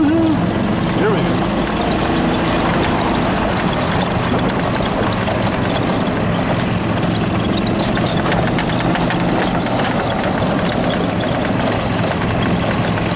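A small railroad motor car engine pulls forward on the Pinnacle Peak and Southern Railroad, a steady loud low rumble and drone running throughout, with people talking over it.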